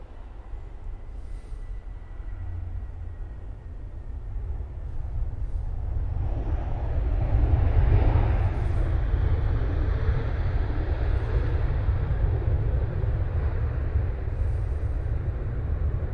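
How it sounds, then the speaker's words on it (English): A Titan Airways airliner arrives from Munich at Manchester Airport, a low steady jet roar that swells gradually and holds for several seconds, heard from a distance with no talking. "So we've got another arrival, the Titan Airways providing, well, coming in from Munich."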